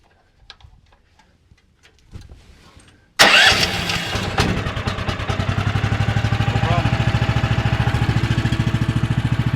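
After a few faint clicks, the engine of a chainsaw-style log saw fitted with a laser guide catches abruptly and settles into a loud, steady, rapid idle chug close by.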